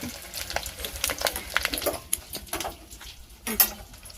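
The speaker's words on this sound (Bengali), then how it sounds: "এই যে মাছের ডিমটা পটপট করে ফুটছে" Rohu fish roe popping as it fries in mustard oil, sharp scattered crackles and pops over a soft sizzle, close by, with an irregular rhythm and a few louder bursts.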